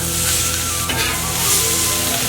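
Yakisoba noodles frying in a pan, a continuous close sizzle with light stirring scrapes.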